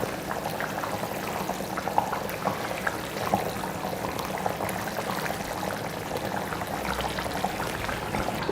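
Egg kurma gravy bubbles in a pan at a steady, dense boil, with close, continuous gurgling and popping and no one talking.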